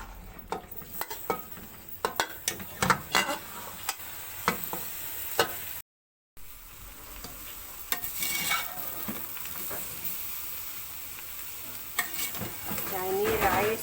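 Vegetables and boiled rice sizzle and fry in a hot pan while a utensil scrapes and stirs with repeated clacks, close up and steady, with brief quiet speech.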